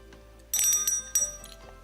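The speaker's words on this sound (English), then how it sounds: "Would you pick up the bell and ring it over the box?" A small hand bell rings in a couple of bright, tinkling strokes, close and clear over a quiet background.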